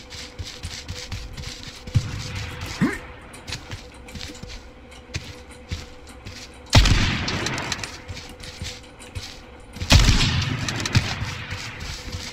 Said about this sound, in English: He's shooting at me, but I can't see him.